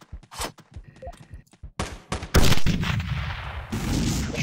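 Gunfire from enemy gunmen in the top-down shooter Teleglitch, with sharp shots followed by a loud sustained burst of firing and rumbling explosions.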